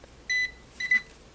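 A Nokta Makro Pulse Dive metal detector gives two short electronic beeps as it powers on, a clear high tone, then a brief pause and a second beep, close up against a quiet background.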